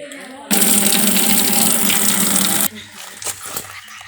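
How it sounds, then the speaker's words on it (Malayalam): Tap water gushes loudly into a container being filled for pet fish, a strong steady stream for about two seconds that then stops, followed by faint handling noises and a brief voice. "നമുക്ക് ഇനി മീനിടാൻ വെള്ളം പിടിക്കാം."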